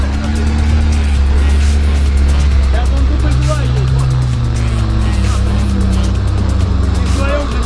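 Car engine revving hard while the vehicle is stuck in a swamp, part of a comparison of differential locks; the loud, sustained engine drone with shifting pitch fills the whole clip, with people talking over it.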